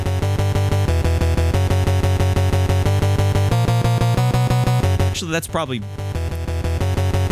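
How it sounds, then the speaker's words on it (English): NES-style chiptune power chord built from the bass channel and stacked square channels, a bright buzzy tone repeating in a steady pulsing rhythm, loud and close, with a short burst of talk near the end. "So that's like your basic power chord"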